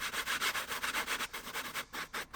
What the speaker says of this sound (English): So I sanded them up on my sanding board.